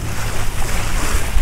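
Ocean waves breaking at a harbour bar, heard from a sailboat: a steady loud broadband wash and roar of surf mixed with wind noise, continuous with no talk.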